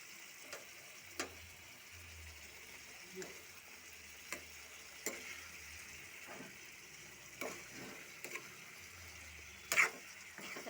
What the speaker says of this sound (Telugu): ఇలాగ అడగంటకుండా కొంచెం చేప కొంచెం కదుపుకుంటే సరిపోద్దండి